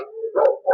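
A dog, a new male guard-training dog in Cairo, gives two short howling yelps close by, separated by a brief pause.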